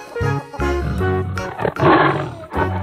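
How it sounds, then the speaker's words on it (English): A tiger roar in a children's animal-sounds sequence, a loud, sustained growling roar with a harsh rising burst near the end, heard alone without talk. "tiger"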